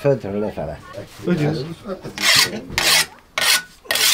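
A whetstone sharpens a scythe blade in rapid rasping strokes, several bright scraping passes in a row, coming after someone speaks nearby.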